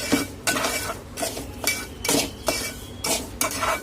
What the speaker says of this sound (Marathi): आपण इथे ड्रायफ्रुट्स घालून घेणार आहोत आणि परत एकदा छान याला खरपूस असं भाजून घ्यायचं आहे रव्यामध्येच